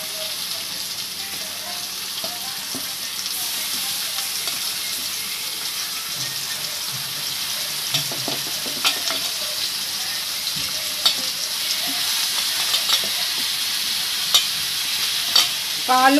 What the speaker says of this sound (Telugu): పసుపు ఉప్పు కలిపిన చికెన్ ఇందులో వేసుకుందాం.